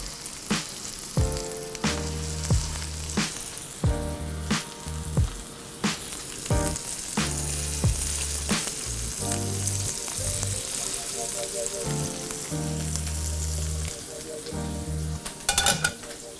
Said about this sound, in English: So into my butter and oil mixture, I'm gonna go ahead and add my scallops.